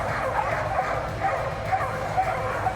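Canine cross-country dogs at a Crufts display yip, whine and bark excitedly in quick repeated bursts at moderate distance, mixed with crowd murmur in a busy hall.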